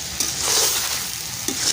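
Curry of taro stems with sea fish being stirred and fried in an oil-slicked pan, a steady close sizzle with scraping stir strokes and no talk.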